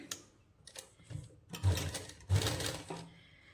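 A sewing machine stitches a seam on a winter suit for a one-and-a-half-year-old boy, running in short bursts of rapid mechanical whirring and clatter with a couple of heavier thumps, close and without talk.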